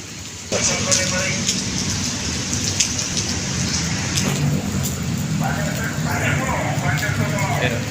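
Rain falls steadily outdoors with an even, dense patter from near and around, starting abruptly after a brief quiet moment and continuing loud throughout, with some voices faintly mixed in.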